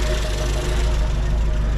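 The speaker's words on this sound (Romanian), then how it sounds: "La motorul merge foarte fain." A 1983 Dacia 1310 1.3-litre engine idles steadily up close, a low constant rumble with a faint rhythmic knock, no voices.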